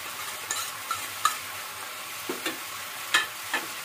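Chilli, cumin and Kashmiri chilli powders fry in a pan for chicken korma while a spoon stirs, giving a steady soft sizzle broken by several sharp scraping strokes, close up.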